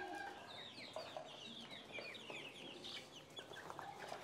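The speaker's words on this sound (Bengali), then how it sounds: "মুরগি আছে, ফার্মি মুরগি" Farm-raised chickens cluck and chatter in a flock, a busy overlapping stream of short calls at low, fairly distant level with no talk.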